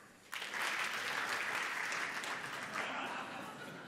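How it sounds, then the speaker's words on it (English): An audience clapping in response to a show-of-hands poll about trusting Uber: a sudden onset of crowd applause that swells, holds steadily and tapers slightly toward the end, heard from a distance. "So if you trust Uber the most, clap now."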